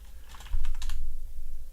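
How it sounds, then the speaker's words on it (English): Rapid typing on a computer keyboard while writing code, a close, busy flurry of key clicks and taps running steadily throughout. "I am terrible at typing, which is funny, being a programmer"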